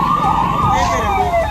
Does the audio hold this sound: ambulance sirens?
yes